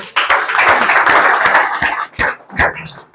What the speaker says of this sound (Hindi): इनके लिए भी जोरदार तालियां बजाओ।